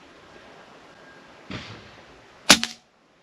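A Snowpeak PR900W gen2 PCP air rifle in 4.5 mm fires in a quiet outdoor setting: a soft puff, then a sharp, short muffled crack with a brief tail, close by.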